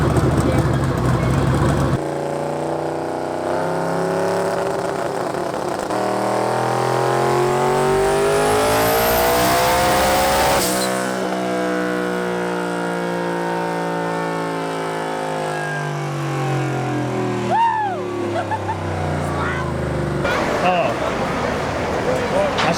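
A twin-turbo Hemi-powered Fox-body car engine revs hard on a dyno. Its loud, rising engine roar climbs steadily to a peak, drops off, then settles into a lower, continuous drone, heard up close and running the whole time.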